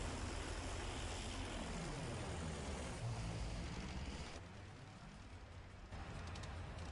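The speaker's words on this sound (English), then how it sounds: "Shadow Wolf, he's busy flying that plane." Propeller plane flying in a video game, a steady, loud engine drone that holds throughout with a brief dip in level, no voices over it.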